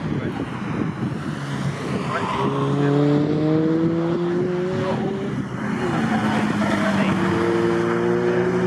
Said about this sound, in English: We've got 13 minutes to go in this race, so Roger Whiteside set his fastest lap